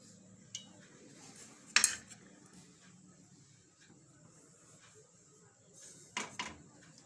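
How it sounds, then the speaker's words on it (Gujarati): A metal kadai is set down on a gas stove for cooking, giving one sharp clank partway through and a softer clatter of metal near the end, faint against a quiet kitchen background. "આપણે આ કડાઈ રાખશું, એમાં આપણે તેલ નાખશું."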